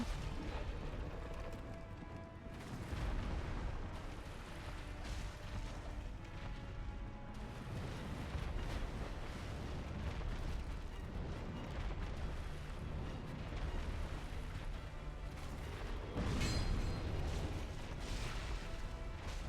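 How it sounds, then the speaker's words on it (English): Continuous deep rumbling blasts and booming explosions in Dark Souls, dense and loud throughout with a heavier burst near the end. "Let's get behind just so we don't get hit by that explosion."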